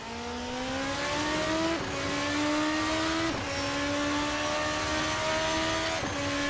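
A Formula RSS 2 open-wheel race car in a sim racing game screams at high revs, its engine note rising steadily in long pulls, then dropping sharply at each of three quick downshifts. The sound is loud and continuous, with no talking.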